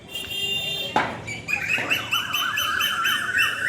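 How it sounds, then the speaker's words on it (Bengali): Birds chirp and sing after rain, bright repeated tweeting calls rising and falling close by; a brief rustle comes just before the song strengthens, with no talking. "কি সুন্দর ডাকছে।"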